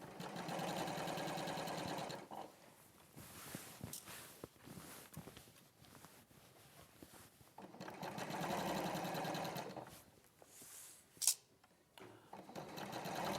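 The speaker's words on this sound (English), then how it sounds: "when you sew the seam, you can then overlock the two seam allowances together and cut them right down to 1/4 of an inch" An overlocker stitches two seam allowances together during a home sewing demonstration, producing steady rapid mechanical whirring in two sustained bursts separated by quieter handling noise, with a sharp click near the end.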